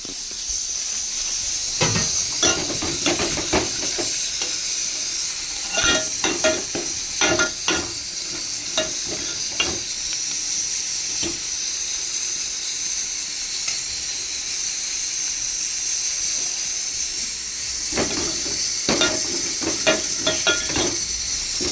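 Onions frying in a pan for chickpea curry, a continuous hissing sizzle broken by repeated scraping strokes and clinks as a spoon stirs them, close and with no talking.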